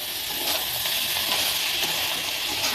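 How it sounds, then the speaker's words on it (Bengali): Mixed leafy greens, pancmishali shak, sizzle steadily after being added to fried onions in a hot pan, a continuous loud hiss with faint stirring scrapes and no talk. "আমার পেঁয়াজ ভাজা হয়ে গেছে, এবার আমি দিয়ে দেবো শাক।"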